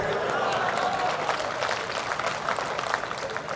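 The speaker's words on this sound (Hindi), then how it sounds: "राहत साहब के लिए तालियां बजाइए।" Audience clapping at a comedy mushaira in Bhopal, a broad sustained wash of many hands that stays loud and even throughout, with some crowd noise mixed in.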